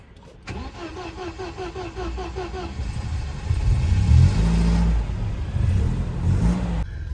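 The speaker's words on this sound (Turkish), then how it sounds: "arabaya gaz hani pompalıyorum ki araba ısınsın biraz kendine gelsin diye" A car engine cranks with rapid starter chatter, catches, then revs up loudly as it warms, with the engine note holding high and dropping back near the end.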